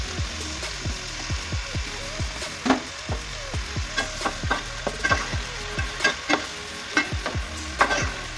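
Fish pieces for pickle fry in hot oil, a steady sizzle broken by repeated scraping stirs of a utensil against the pan, close and fairly loud with no talking.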